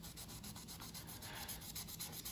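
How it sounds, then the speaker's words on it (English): A Mr. Clean magic eraser is rubbed briskly over a scuffed 2002 HPI Micro RS4 1/18 RC car body, making a steady, close scratchy scrubbing with a quick repeated back-and-forth rhythm and no talking. "So this is a magic eraser, Mr. Clean. And we're just gonna go to town right here."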